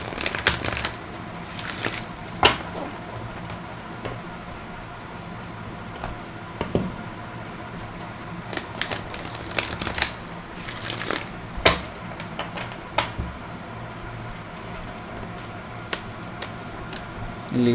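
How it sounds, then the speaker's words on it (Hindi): A deck of tarot cards shuffled by hand, with soft, close riffling and flicking in uneven bursts and brief gaps between them. "ये सही से नहीं हुए हैं तो मैं इनको पहले शफल कर लेता हूँ"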